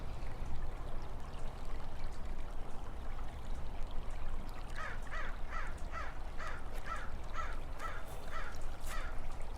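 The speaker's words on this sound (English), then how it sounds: "I'm hearing the crow." A crow caws in a steady series of about eight harsh calls at a regular pace. The calls rise over a constant background wash that sounds like running or trickling water.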